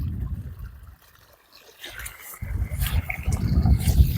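Water gushes and gurgles out of an irrigation pipe fed by a motor pump into a groundnut field, rising and falling in strength, with a brief quiet gap in the middle.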